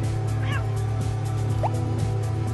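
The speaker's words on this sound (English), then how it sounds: "Nope, I didn't want to hit that chicken. So chickens get mad." Chickens in a video game give a brief burst of agitated clucking over steady game music and ambient sound, with a short squawk partway through.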